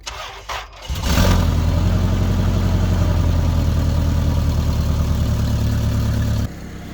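A van engine with a hole in the exhaust flex pipe cranks and fires after a second of quiet clicks, then settles into a loud, rough, throbbing idle close by before dropping off near the end.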